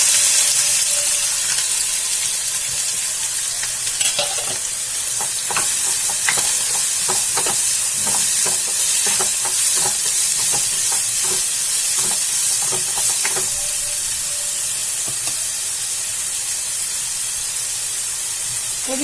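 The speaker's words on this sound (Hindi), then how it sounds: "तेल गर्म होने दे दिया है मैंने, अब इसमें हम प्याज डालेंगे" Onions tossed into hot oil in a home kitchen fry with a steady, close sizzling hiss, broken by scattered crackles and spits throughout, with no talking.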